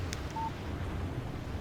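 A mobile phone in the video game Alan Wake gives a short electronic text message alert, one brief beep-like tone over a low ambient game background.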